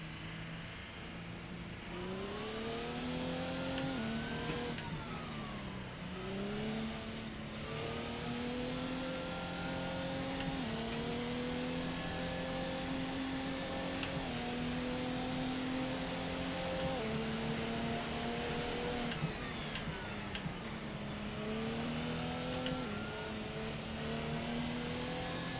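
A car engine in the Assetto Corsa racing game with a van-like sound, droning steadily for a long stretch with repeated rising and falling revs as it accelerates and shifts, loud and close with no talk.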